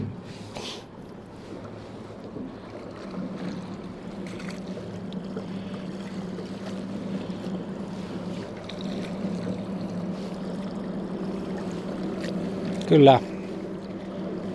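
Outboard motor on a small winter boat being test-run, a steady low engine drone throughout with a brief louder surge near the end, while someone speaks a word over it.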